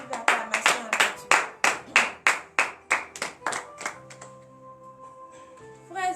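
A congregation at morning prayer claps in a rhythmic series of sharp, loud handclaps that slow and fade after about four seconds, giving way to sustained keyboard tones.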